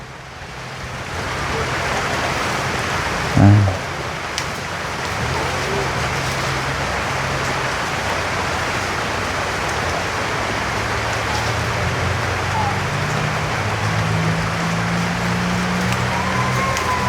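Steady rain hisses throughout, a dense wash of falling drops with no pauses, plus a low rumble underneath and a brief bump near the start.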